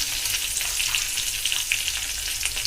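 Pieces of three green chilies and a quarter spoon of turmeric powder frying in a pan, a steady close sizzle with fine crackling pops.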